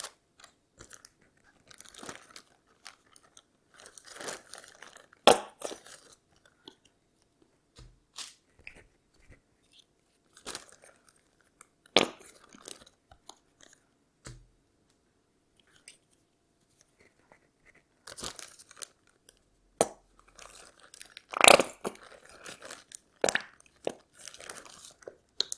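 A tube of acrylic paint being squeezed, giving scattered crackling, squelching bursts and faint crinkles. The sounds come close and quiet in irregular clusters, with near silence between them.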